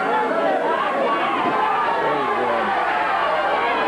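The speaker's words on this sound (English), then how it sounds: "Crowd screaming as he walks over to holler something at the referee." Wrestling arena crowd at a 1970s California bout, a dense continuous wall of screaming and chatter, loud and steady throughout with no single voice standing out.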